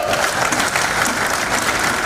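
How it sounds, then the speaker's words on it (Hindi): Loud clapping from a packed audience at the inauguration of Atal Sadan in Indore, a dense, continuous burst of applause close and full, without speech. "जोरदार तालियां बजाओ"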